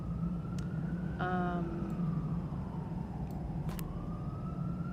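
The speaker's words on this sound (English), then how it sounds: "please ignore the police sirens outside" Police sirens wail outdoors, heard faintly through a wall or window as a rising and falling tone over a steady low hum, with a brief burst of higher harmonic whoops midway.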